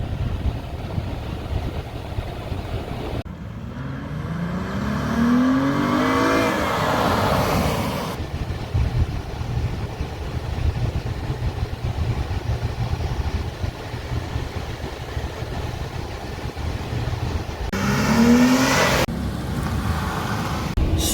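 A Dodge Challenger GT with the 3.6 liter engine cruising at steady speed, a continuous low engine and road drone inside the car, with brief swells of passing traffic or wind noise.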